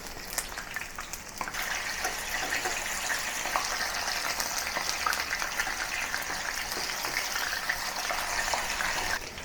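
Belacan-marinated chicken shallow fries in about half an inch of hot oil at home, giving a steady, fairly quiet sizzling hiss that stays even throughout with no voices.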